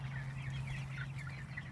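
Pastured chickens on grass clucking softly at close range over a steady low hum, a brief continuous patch of overlapping murmuring clucks.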